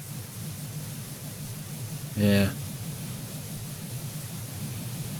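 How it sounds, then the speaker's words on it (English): Steady broadband hiss of a pressure washer's water spray in the game PowerWash Simulator, running constantly through the whole stretch with a brief spoken word cutting in midway. "It's just the white noise of the spray of the water."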